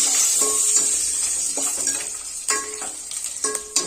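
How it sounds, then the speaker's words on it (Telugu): Food sizzles in a pan after salt is added, a close crackling hiss broken by clinks and scrapes of a spoon stirring against the metal, with no talking. "కొంచెం మంచిగా ఫ్రై కావాలి"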